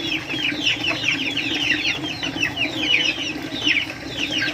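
Chickens cluck and chatter steadily on a farm, many birds calling at once close by over a low background hum.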